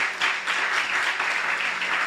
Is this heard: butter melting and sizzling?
no